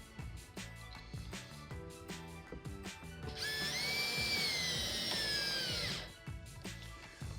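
A power drill drives screws to secure the apron of a Delta Hycroft alcove bathtub: short ticking bursts, then a sustained whining run of several seconds that stops abruptly, close and fairly loud.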